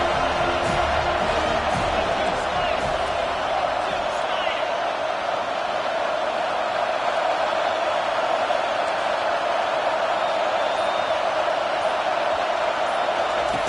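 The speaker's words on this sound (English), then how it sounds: "the crowd coming to life here, trying to help this defense down in the red zone" A football stadium crowd roars in a dense, continuous wash of cheering as the defense holds in the red zone, loud and steady throughout.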